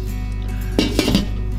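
A lid is set onto a cooking pot of sólet with beans and beef, a few close metallic clinks and a short rattle as it settles, over a steady low hum.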